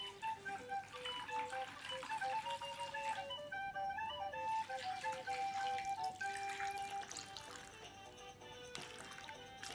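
Water runs steadily from a tap into a bowl with a large strainer set inside it, a continuous gurgling, dripping fill that rises in pitch as the level climbs, close and alone without talk.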